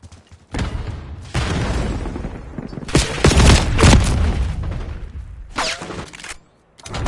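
A frag grenade goes off in Black Ops 6 multiplayer Hardpoint mode, a loud booming blast amid bursts of rapid gunfire and rumbling explosions, the heaviest impact landing near the middle before the chaos briefly drops off and resumes.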